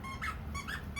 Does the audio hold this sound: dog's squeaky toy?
yes